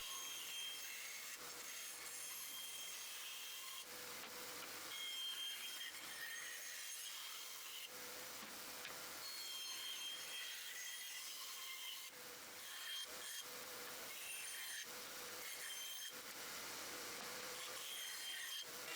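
Pallet wood parts being cut and shaped with a power tool, a steady rasping, grinding whir that runs continuously with brief dips and surges, close and fairly loud with no voices.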